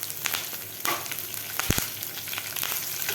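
Green chilies fry in hot oil with spice masala and asafoetida, giving a continuous crackling sizzle with a few sharp spatula taps against the pan, close and unaccompanied by talk.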